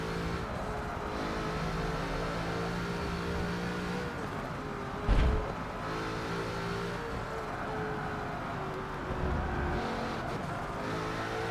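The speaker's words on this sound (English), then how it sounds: "Just that whine and the growl at the same time, like the car doesn't know what it wants to do." In the Forza 7 racing game, a Bugatti Chiron's engine holds a sustained whine layered over a deep growl, loud and steady, with a brief thump and slight surges in between.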